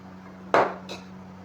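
A metal spoon clinks sharply against a pot of cooking barley talbina, one bright knock followed by a softer second tap, over a low steady hum.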